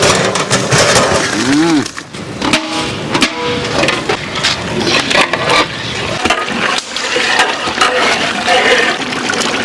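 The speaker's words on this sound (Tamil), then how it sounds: "சீரக சம்பா அரிசி வேக வச்சு எடுத்து பிரியாணி சேர்க்க போகிறோம்." Cooked seeraga samba rice is tipped into a pot of mutton biryani, making a loud, wet crunching, sloshing and scraping mix with watery splashes, while people talk over it.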